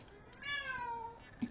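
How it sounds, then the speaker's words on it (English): A house cat cries with one drawn-out, rising-and-falling meow, fairly close and clear, followed by a short low thump near the end. "My cat's crying too now."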